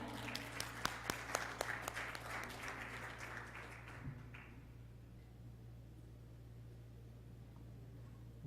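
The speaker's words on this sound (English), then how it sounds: "Let's give him a round of applause to welcome him up." An audience at a cultural event at the Indian Consulate in New York gives a round of applause to welcome a speaker; scattered claps ring out for about four seconds, then fade into quiet room hum.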